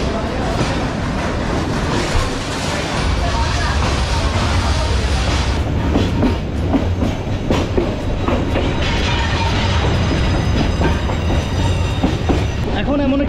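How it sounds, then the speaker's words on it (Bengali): A passenger train pulls out on the Chittagong-to-Sylhet line, running steadily through hills and tea gardens with a continuous loud rumble and rhythmic clickety-clack of wheels on rail joints, close and sustained throughout. "ট্রেন ছেড়ে দিছে,"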